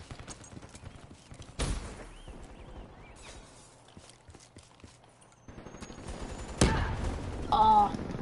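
Pistol shots fired in a video game, a couple of sharp loud reports standing out against a busy game soundscape with hoofbeat-like clatter and ambient noise.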